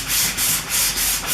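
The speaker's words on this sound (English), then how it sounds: "A little fine sanding here on the top piece." Hand sanding of a wooden stool's top piece with fine sandpaper: close, rhythmic back-and-forth rasping strokes, about four even passes, alone without talk.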